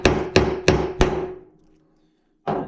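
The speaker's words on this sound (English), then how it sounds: "and then we'll just hit it with a hammer a couple times." Four quick, ringing hammer strikes on a metal leather hole punch, evenly spaced, then a pause and one more blow, close and loud.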